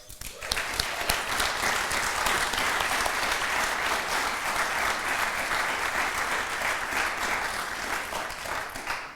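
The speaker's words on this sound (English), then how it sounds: "could we stop and give them a round of applause?" A lecture-hall audience at a Yamhill County Commission candidates' forum at Linfield claps steadily for the candidates, a dense, sustained round of applause lasting several seconds before fading out.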